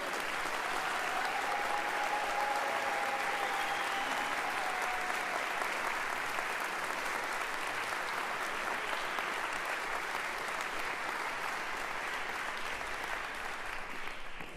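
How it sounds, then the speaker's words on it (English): Sustained applause from a large commencement audience at a 2025 University of Louisville graduation ceremony, a steady dense wash of clapping holding at even strength for the whole stretch, with faint whistles or cheers near the start. "Can we have another round of applause for these other guys?"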